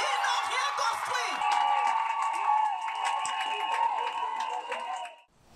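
A crowd cheers and whoops at a political rally in Gabon, with loud, sustained shouting and high-pitched voices rising over a constant roar that cuts off abruptly at the end.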